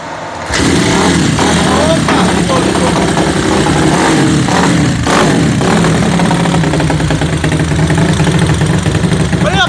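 A CG 320cc motorcycle engine runs on a dynamometer, revving loud and close for several seconds in a sustained roar. Excited voices call out over it.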